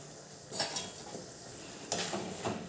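A spoon stirs green pigeon pea thotha, a Gujarati dish made with fresh tuvar, in a pan over a gas flame, giving soft scraping and clinking strokes over a low sizzle, with two louder stirs.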